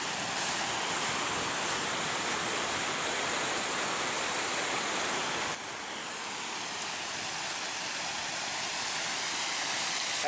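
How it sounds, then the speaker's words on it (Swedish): Water pours and rushes steadily at Jädersbruk museum in Arboga, a broad continuous hiss and splash like a small waterfall, loud and close, with a slight shift in tone midway and no talking. "Och där kommer det jättemycket vatten."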